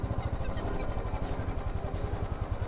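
A motorcycle engine idles and putters in a rapid, even rhythm at close range on a street in Kanyakumari, with a steady mechanical clatter.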